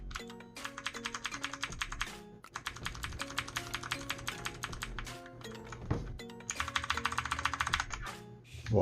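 Rapid clicky typing on a Yeyian Spark 2000 mechanical keyboard with Outemu Blue switches, in dense bursts of sharp close keystrokes broken by short pauses and a few heavier thunks, with no voice over it.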